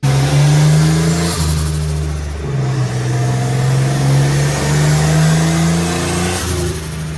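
A turbocharged 4.3-liter drift truck engine revs and drops repeatedly, a deep throaty roar surging up and down with a rumbling idle between pushes, no voices.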